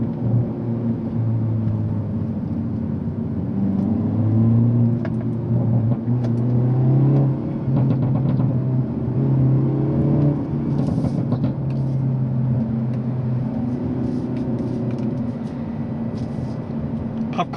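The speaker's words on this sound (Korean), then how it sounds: "N 모드를 바꿔놓게 되면 화려한 디스플레이 전원과 함께 더 매력적인 배기음을 느껴볼 수가 있죠" A Hyundai Avante N in N mode sounds its exhaust while driving, a continuous mid-pitched engine drone that swells and eases as it accelerates. Crackles come through partway, with little or no speech over it.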